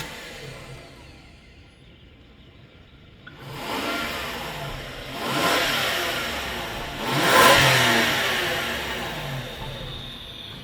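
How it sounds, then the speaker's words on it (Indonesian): A V12 car engine catches after cranking, then revs in three rising and falling swells over a steady smooth idle, loud and close with no talking. "Nah, kita lihat gimana sih V12 di crank suaranya itu gimana."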